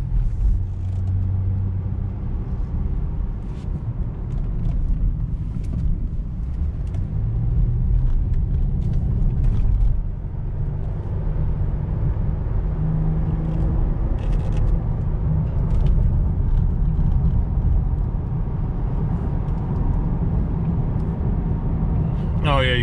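Chevrolet car cruising at about 55 mph with a wheel slightly out of balance, giving a steady low road rumble and engine drone from inside the cabin, with someone talking over it throughout.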